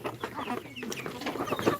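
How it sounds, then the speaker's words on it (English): A Rhode Island Red heritage chick, hatched under a native hen, gives a rapid run of small, close cheeps and clucks over faint background noise. "this chick is a heritage chicken. It's a Rhode Island red breed of chicken."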